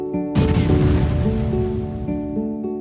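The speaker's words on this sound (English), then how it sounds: "Then it fades to black and we hear an explosion." An explosion erupts in a Final Fantasy VIII cutscene, a sudden loud boom that swells into a long rumbling roar, with sustained musical tones running underneath and no voices.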